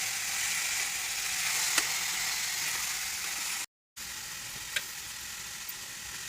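Finely chopped cabbage sizzles steadily in a hot pan while being stirred, a close, even hiss with a couple of brief scraping clicks and a short gap of silence partway through.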